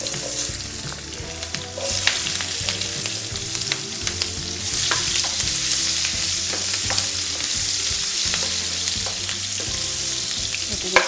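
Garlic, chilli and large-cut onion sizzle in oil for restaurant-style chilli chicken, a dense, steady frying hiss with repeated stirring scrapes and clinks throughout.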